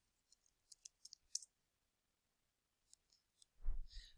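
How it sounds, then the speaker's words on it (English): Mouse clicks on a sign-in button, a scattering of light, sharp clicks near and faint with long quiet gaps, followed by a short low thump at the end. "I'm going to click the sign in button and sign into my account"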